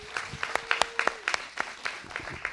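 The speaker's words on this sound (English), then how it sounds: "give a huge round of applause for their parents and guardians this evening" An evening audience at a community scholarship awards event claps warmly for parents and guardians, steady applause with scattered louder individual claps and faint voices underneath.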